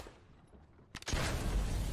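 After a quiet stretch, a sharp crack is followed by a heavy, sustained boom of a cannon shot in Fortnite, loud and rumbling.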